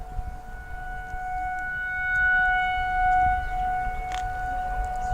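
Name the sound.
tornado sirens sounding during a drill in Lincoln, Nebraska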